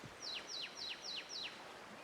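A loud video game bird repeats a shrill descending call five times in quick, even succession, over a soft ambient bed with no talk.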